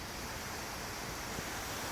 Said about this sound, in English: runs from the top of the cooling tower and it falls down, it trickles down like a waterfall